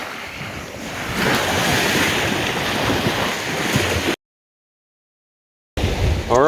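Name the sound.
ocean waves coming in on the tide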